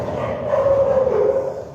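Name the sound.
dogs fighting and barking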